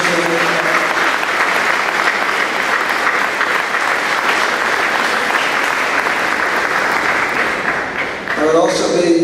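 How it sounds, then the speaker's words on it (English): Sustained audience applause fills a banquet hall at an alumni dinner, dense and steady for about eight seconds before it tapers. Voices come in at the very end. "let's give a round of applause to our student helpers team"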